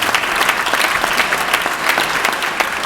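A crowd at a State of the State address applauds loudly and continuously, a thick, close spatter of many hands with no pause.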